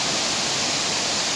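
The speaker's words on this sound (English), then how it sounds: "Waterfall ya." Krang Suri waterfall rushes steadily nearby, a dense broadband hiss of falling water with no breaks or voices over it.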